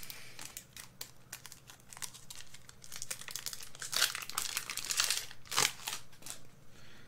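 Foil wrapper of a Pokemon Brilliant Stars booster pack crinkles and tears as it is opened by hand, a steady run of close, crisp rustling that swells into louder crackling bursts toward the end.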